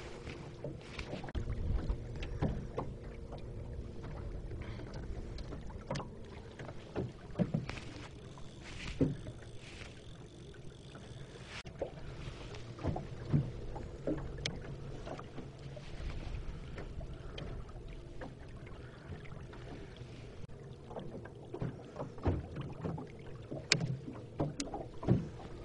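A small boat trolls for pike on a lake near a summer house. Water laps and sloshes continuously against the hull, with faint wind and scattered knocks and creaks over the 25 seconds.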